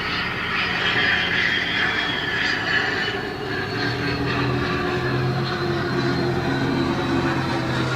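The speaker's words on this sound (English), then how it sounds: "And of course, here comes the plane." A jet airliner passing overhead along a flight path near a home, a continuous loud engine roar and rumble holding steady throughout, with the pitch shifting slightly as it goes by.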